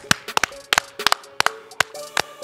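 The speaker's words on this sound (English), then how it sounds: "Clap it up" A few people clap at the close of a sports podcast episode, sharp separate claps in irregular bursts, close and loud with short gaps between them.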